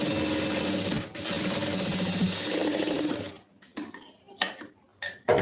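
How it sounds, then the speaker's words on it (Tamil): A sewing machine stitching a lining blouse runs in a steady, fast mechanical whir for about three seconds, then stops, leaving scattered clicks and handling noises. "இது அப்படியே வந்து தையல் ஓட்டிடுங்க"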